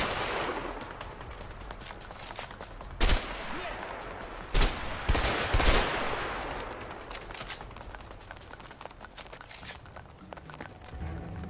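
Gunfire from a handgun in the video game A Way Out during a shootout in Mexico, with several sharp, loud shots spaced irregularly over a busy background of clinking and rattling game noise.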